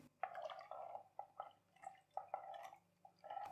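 Black carrot kanji drink being stirred with about four litres of added water: repeated close, wet sloshing and dripping swirls in an uneven rhythm, fairly quiet, with no voices.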